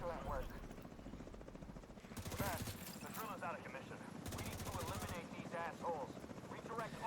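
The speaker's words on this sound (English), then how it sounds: "Now here comes the helo." A helicopter arrives in The Division 2 shooter game, its rotor chop and engine drone swelling in loud bursts amid gunfire and game effects.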